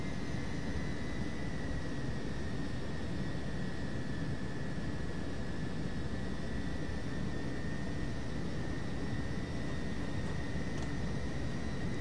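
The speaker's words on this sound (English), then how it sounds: "Use a engine differential here to help turn the aircraft." Boeing 727-100 jet engines taxiing in a flight simulator, a constant roaring whine with a steady high-pitched tone above a broad rumbling wash, unbroken and with no talking.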